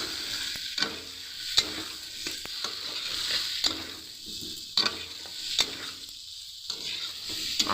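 Boiled potatoes and elephant foot yam sizzle in spiced oil while a spoon stirs them, with repeated scrapes and clacks against the pan over a steady frying hiss, close up with no voices.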